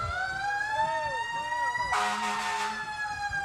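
A wailing siren sweeps up and down close by at a fair parade, with a brief burst of noise partway through, sounding continuously for the whole moment.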